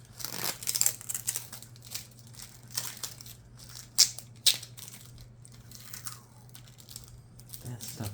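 Protective plastic film is peeled off an EVGA RTX 3080 graphics card, producing crinkly tearing and crackling bursts with a couple of sharp snaps near the middle, close-up over a low steady hum.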